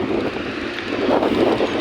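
A helicopter flies nearby, heard as a loud, steady broadband rumble with wind buffeting the microphone throughout, and no talking.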